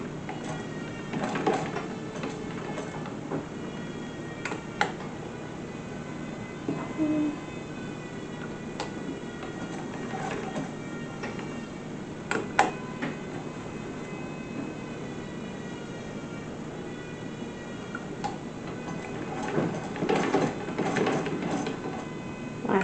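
An old sewing machine runs with a rhythmic mechanical clatter and whir, moderately loud and close, with scattered clicks and knocks over a steady hum and no talking.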